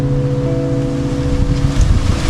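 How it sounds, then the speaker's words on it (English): Steady, loud wind roars and buffets the microphone outdoors, a low rumbling rush that swells slightly toward the end. "sorry, it's very windy out here."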